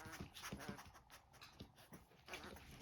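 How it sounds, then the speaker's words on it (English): Mother dog with her newborn blue merle puppies, soft panting and faint whimpering in quick irregular bursts, close and quiet. "Wasn't expecting these puppies right here."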